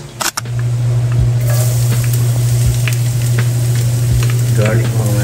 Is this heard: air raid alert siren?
no